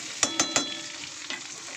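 Potatoes frying in a pan, a close sizzle with a quick run of three sharp spatula stirs followed by one more scrape.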